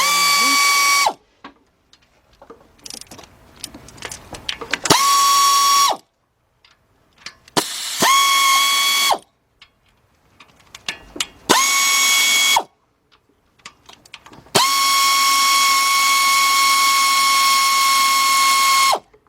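A 3/8-drive ratchet with an 8mm deep socket removes bolts from the lower intake manifold of a 2004 Chevy Monte Carlo 3.4, in repeated loud whirring bursts separated by quieter clicking and handling noises.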